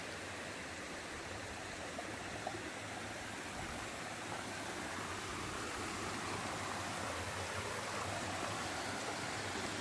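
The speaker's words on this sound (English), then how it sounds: "took a little .2 Blue Blaze side trail to Thoreau Falls" Thoreau Falls, a waterfall cascading down a hillside beside the Appalachian Trail, gives a soft, even rushing roar that stays faint and constant throughout, with no voices.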